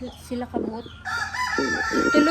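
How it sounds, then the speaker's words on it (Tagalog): Black chickens on a home yard give short clucks, then a rooster crows loud and close, the crow running on to the end over steady clucking. "Itom nga manok."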